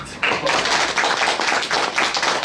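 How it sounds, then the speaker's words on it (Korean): Audience at a Buddhist dharma talk at Yeonhwa Temple clapping together, a dense run of overlapping claps in loose rhythmic bursts filling the room at moderate loudness. "그 박수를 쳐 박수"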